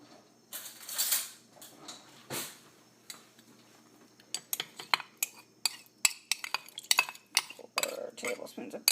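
A metal spoon clinks and scrapes against a dish while scooping softened butter for pretzel roll dough, with irregular sharp taps and rattles growing busier toward the end.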